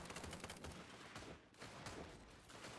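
Sniper and turret gunfire in the zombie real-time strategy video game Cepheus Protocol, forming a dense, continuous barrage of overlapping shots with no clear pauses.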